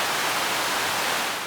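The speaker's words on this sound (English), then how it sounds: "I've got the white noise output from Quiver" White noise from a Quiver synth module, gently high-pass filtered, plays as a steady, loud, even hiss that stays flat from start to finish.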